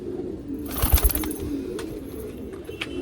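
An Umar cross pigeon coos close by on a Rohtak rooftop loft, a few low throaty bursts over a soft background hum, with faint wing or body rustles in between.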